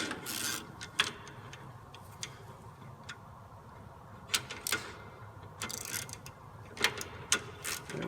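A ratchet with a wobble-head socket working the inner starter bolt on an Isuzu Trooper, producing sparse close clicking bursts and ratchet ticks over a low background hum.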